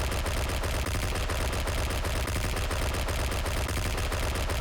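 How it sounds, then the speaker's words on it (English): Rapid gunfire in the Vampires' Melody video game: dense bursts of shots in quick succession, loud and steady for several seconds. "a series of gunshots in rapid succession that I can't tell exactly how many bullets are fired"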